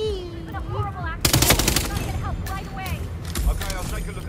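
Gunfire from the Ducky Edition gun crackles in Hitman 3 as a rapid burst of loud, dense shots. Game voices and music sound over and around the shots.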